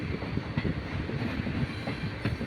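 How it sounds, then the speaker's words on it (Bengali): A train rumbles steadily at a busy multi-track railway station, a continuous low, fairly faint wash of rail noise with no distinct horn or voices. "কোনো না কোনো দিক থেকে ট্রেন আসতে যাচ্ছে আসতে যাচ্ছে আর সবগুলো ট্রেনই এখানে স্টপেজ দেয়"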